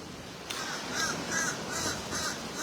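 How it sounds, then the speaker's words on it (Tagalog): Crows caw at a beach where people feed them. A few hoarse calls come from a moderate distance over steady outdoor wind and surf noise. "May mga ibon dito, pinapakain ng mga tao"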